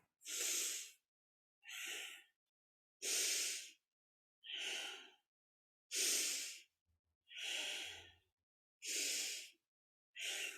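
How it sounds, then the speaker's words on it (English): Deep, rhythmic breathing during a kundalini yoga practice, eight strong, even breaths about 1.3 seconds apart, each a loud, airy rush close to the mic, with silence between. "Inhaling up, exhaling down."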